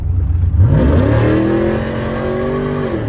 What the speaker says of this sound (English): Oh, the wheel hop is crazy on this truck right now.